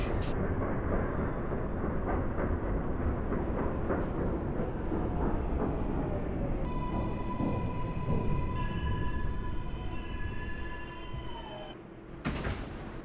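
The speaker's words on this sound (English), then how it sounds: "This is a Manhattan-bound F train." NYC subway F train running in the openBVE train simulator, a steady rumbling roar of a moving train throughout, with a brief tonal chime or hum appearing midway and a short dip near the end.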